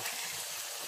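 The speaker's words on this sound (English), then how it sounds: "So now I'm going to add my meat that I boiled." Boiled meat goes into a hot pot for efo elegusi and sets off a steady, bright sizzle with a hissing edge, loud and close and lasting under a second.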